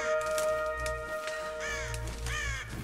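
Crow in the video game Tomb Raider, several harsh caws in a row, clear and fairly close over a low ambient hum and a soft game backdrop.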